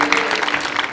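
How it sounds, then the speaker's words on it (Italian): A short, loud burst of steady audience applause for water polo player Tania Di Mario, a dense wash of clapping with no pause. "Ora un applauso a Tania Di Mario"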